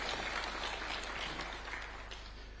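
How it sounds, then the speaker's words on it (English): Audience applause at a university ceremony, a brief burst of steady crowd clapping that fades slightly toward the end, heard alone without talk. "I humbly request that we give a round of applause to these great men and women of our Republic"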